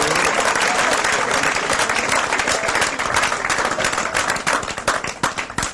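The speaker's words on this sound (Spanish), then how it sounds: "¿Por qué no le da un aplauso a Jesucristo esta mañana?" A church congregation applauds for Jesus Christ at a Spanish-language morning service, a loud, sustained mass of clapping with sharper individual claps as it thins out.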